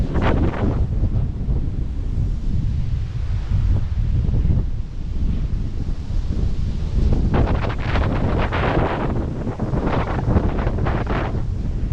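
Light breeze at the Hüttener Berge viewpoint overlooking the Kiel Canal in Schleswig-Holstein, heard as steady wind buffeting and rushing across the microphone in gusty waves, loud and continuous with no voices.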